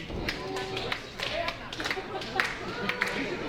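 Wrestling crowd at the London Music Hall cheering and clapping during a live independent show, a steady roar of applause with sharp claps and thuds from the ring under a commentator's voice.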